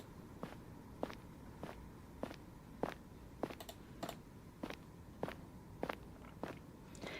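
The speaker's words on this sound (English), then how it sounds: "you cannot hear anything either, beyond the sound of your own footsteps and the low morning sighing of the wind" Soft footsteps in a video game keep a steady walking pace, about a dozen even steps at regular intervals. They are quiet and close, with no talking.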